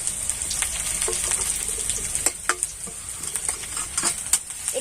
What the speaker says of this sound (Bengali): একটু ভেজে নেব, পেঁয়াজ কুচিটা দিয়ে দেবো।